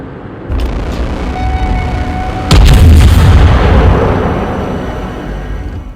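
Battleship main guns firing in World of Warships, a deep booming salvo that swells suddenly and loudly over steady low battle rumble, then slowly fades away.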